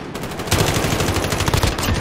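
Rapid automatic gunfire in Call of Duty Modern Warfare during a 3v3 Gunfight match, a dense loud burst of shots that intensifies halfway through, close and continuous.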